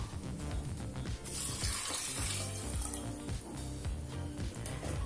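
Water pours steadily into a metal pressure cooker holding rice, a continuous splashing rush that stays loud and close throughout.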